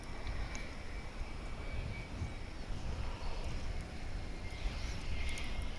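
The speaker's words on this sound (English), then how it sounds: "So here comes the flight from Amarillo on runway DFW." A passenger plane from Amarillo arrives on a runway at Dallas Fort Worth International Airport, its engines making a steady, broad roar mixed with wind noise that swells slightly toward the end, with no voices present.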